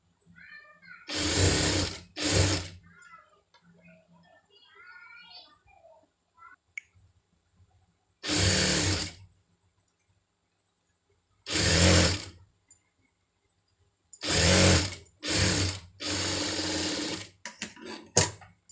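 Sewing machine stitching thread piping onto a lining piece, running in short loud bursts of whirring stitches separated by pauses, close and alone with no talk.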